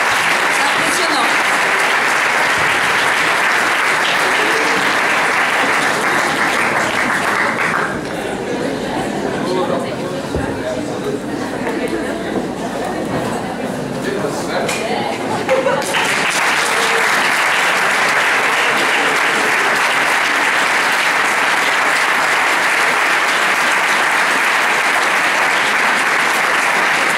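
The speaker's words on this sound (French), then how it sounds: "On peut les applaudir" An audience at a talk with a professor breaks into loud, sustained applause that thins into a lull of chatter mid-way before swelling back to full, dense clapping from a large crowd.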